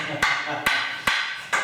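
Hammering during the build of a homemade DIY bar for a man cave: four sharp, evenly spaced blows ring out close by, each followed by a short decaying ring.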